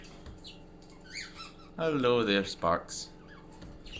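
Pet budgies give bright chirps and a burst of squawking chatter up close, while someone speaks gently to them.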